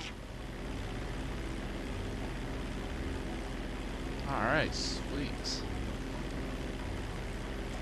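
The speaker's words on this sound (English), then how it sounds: "I missed flying a plane." Steady engine drone of an airplane in flight in GTA V, an even, continuous hum throughout with a brief swell midway, while a voice speaks over it.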